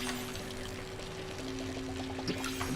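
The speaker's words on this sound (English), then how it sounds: "Water the trees." Water pours steadily from a watering can onto trees in a farming video game, a continuous moderate splash and trickle running alone throughout with a few faint game chimes.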